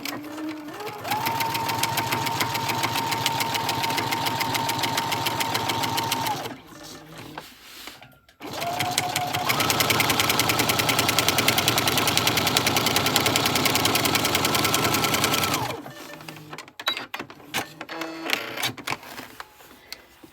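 A sewing machine stitches a vinyl pouch in two long steady runs of rapid, even mechanical clatter, each stopping briefly with quieter handling noises between and after them.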